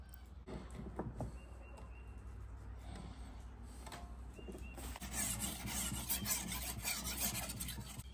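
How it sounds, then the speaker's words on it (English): A machete blade drawn across a whetstone to hone a keen edge, giving soft repeated rasping and rubbing strokes at close range, growing denser and louder toward the end, with no talking. "I'm just going to put a really nice, keen edge on it with a whetstone."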